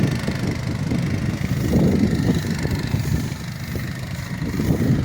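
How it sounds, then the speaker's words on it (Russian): A homemade rotary hay mower on motorcycle wheels runs with a steady, mid-pitched engine drone and rumble, continuous and fairly close, with no talk. "И успевает вот эта роторная косилка."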